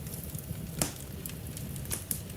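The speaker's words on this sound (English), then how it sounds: "Listen to the fireplace." A fireplace fire crackles softly and steadily, with faint scattered pops and snaps over a low, even background hiss; no voices.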